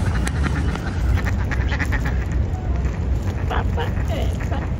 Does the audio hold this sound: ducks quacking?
yes